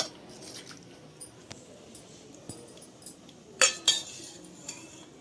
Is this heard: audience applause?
no